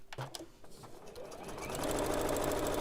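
A sewing machine stitches a bag, starting with a few clicks and handling noises, then running up into a fast, steady mechanical whir that stays loud and close.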